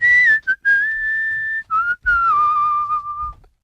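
Someone whistles a tune alone, with clear, loud sustained notes that glide up and down and are broken by short breath pauses.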